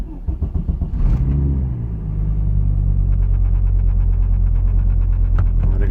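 An Audi S2 engine cranks and catches, then settles into a steady, loud, close rumbling idle with a slightly uneven pulse, running alone without voices.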